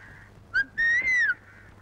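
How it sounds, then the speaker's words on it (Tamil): A girl whistles in a Tamil film scene: a short bright note, then a longer rising-and-falling whistle, clear and close above a low steady hum. "முட்டக்கார பொண்ணு என்ன பார்த்தா விசில் அடிக்குது?"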